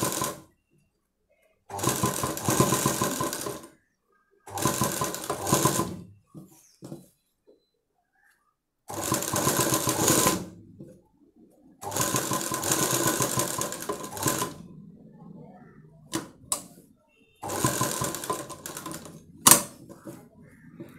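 A sewing machine stitches piping on a star neck blouse in loud, close, rapid bursts, stopping and starting about six times with quiet gaps and small handling noises between runs.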